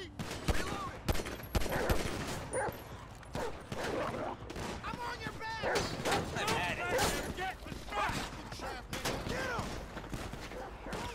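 Dense gunfire from a GTA police roleplay game fills the scene, with rapid overlapping shots and bursts running continuously under excited voices talking and shouting throughout.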